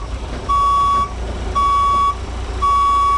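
A truck reverses during a CDL Class B skills test, sending out three long, loud backup beeps in steady rhythm over low engine rumble, each tone holding about half a second before a pause.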